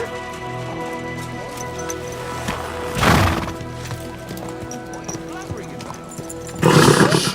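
Horse in the Kingdom Come Deliverance II video game, with hoof and whinny-like sounds over a game soundtrack, a loud burst near three seconds and another at the end, with speech throughout.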